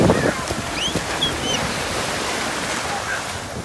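Ocean waves on a beach make a steady broadband wash of surf, close and moderately loud, with faint high voices or bird-like chirps showing briefly over it.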